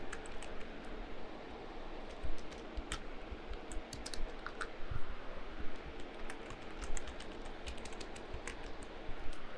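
Fingers type on a computer keyboard in quick, uneven bursts of close key clicks that continue without pause, with no voices.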